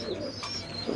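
Pigeons at a pigeon farm coo softly and close by in a brief murmuring burst, with low throaty calls rising and falling under faint background noise.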